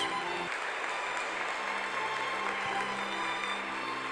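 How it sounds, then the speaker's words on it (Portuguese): A church congregation applauding during a service, a dense, continuous wash of clapping heard from within the room, even in loudness throughout. "Vamos dar uma talentosa salva de palmas para o Espírito Santo de Deus"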